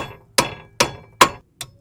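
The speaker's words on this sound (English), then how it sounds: "So I get a large lump hammer like this and give it some nice firm blows, see if you can get it out." Four sharp metallic strikes from a large lump hammer hitting the stuck M12 ball joint bolt on a Jaguar X-Type front suspension, evenly spaced and loud, each ringing briefly, with no talk.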